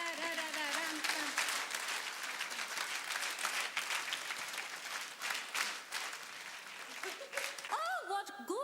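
An audience at a live concert claps in rhythm, with crisp, evenly spaced hand claps throughout. A voice is heard briefly at the start and again at the end.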